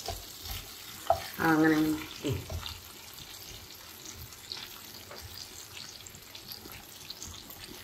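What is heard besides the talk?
pomfret fish coated in rava frying in a pan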